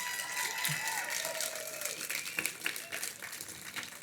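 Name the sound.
audience applause for a 102-year-old World War II veteran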